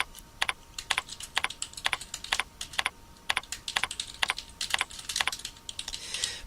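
Steady, close typing on a computer keyboard while entering code, with crisp individual keystrokes in an irregular quick rhythm and brief pauses, no voices.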